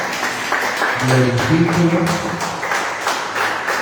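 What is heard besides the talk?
congregation applauding in church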